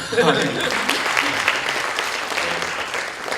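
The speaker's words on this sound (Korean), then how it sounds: "박수라요" An audience claps steadily, a dense sustained round of applause from a room full of people at a Korean networking conference.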